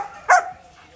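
A large adult male Belgian Malinois, the sire of a litter, gives one sharp, loud bark close by, followed by quieter background noise.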